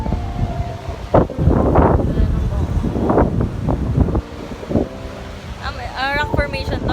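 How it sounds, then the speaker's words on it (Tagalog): Strong coastal wind buffets the microphone at a rock formation by the sea in Baler, Aurora, in loud rumbling gusts, while people talk and exclaim over it. "Sobrang hangin."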